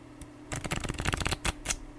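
A deck of tarot cards riffled and shuffled by hand, a close burst of rapid papery flutters with a few separate snaps toward the end, no talk.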